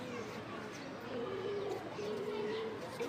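A racing pigeon of red checker colouring coos in low, throaty rolling calls in the middle of the clip, close by and soft, over a faint background murmur.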